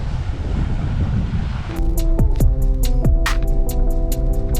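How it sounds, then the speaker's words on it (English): Strong wind roars continuously against the microphone on the Naxos coast, with waves surging underneath and a run of clicking or flapping sounds from about two seconds onward. "It's super windy and the waves are stronger."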